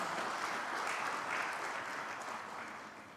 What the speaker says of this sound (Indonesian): Boleh berikan tepuk tangan Bapak Ibu sekalian.